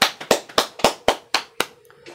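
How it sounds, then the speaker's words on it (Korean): A church congregation claps in praise, about eight sharp, fairly even hand claps in a loose rhythm, close and distinct, slowing and thinning toward the end. "하나님께 영광의 박수 올리겠습니다"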